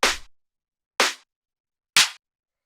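Three sharp, identical clap hits from a tech house track, evenly spaced about a second apart, each a crisp bright snap with a short decay, played alone and moderately loud.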